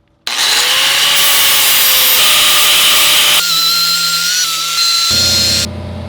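Small 2-inch disc on a power tool grinding paint off a steel custom chopper part, a loud continuous abrasive whine that shifts pitch as pressure changes, close and alone.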